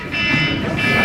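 An alarm tone rings out loud and steady, a continuous buzzing electronic drone that fills the whole moment without a break, with no voices over it.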